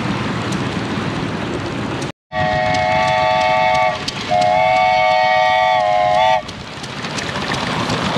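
A small model train rumbles along steadily, then sounds a bright, multi-tone whistle twice in quick succession before the running noise continues.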